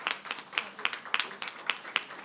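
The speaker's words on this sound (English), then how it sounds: "can I have a big round of applause for the first round of the signing ceremony" A small scattering of hand claps at a signing ceremony, roughly a dozen separate claps in a loose, uneven rhythm, faint and sparse.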